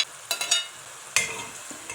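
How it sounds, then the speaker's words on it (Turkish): Thinly chopped onions and browned meat frying together in a pan, with sizzling crackles and short scraping bursts as the mixture is stirred, close and fairly loud with no talk. "Soğanlarımızı da etle birlikte 1-2 dakika güzel bir şekilde kavuralım."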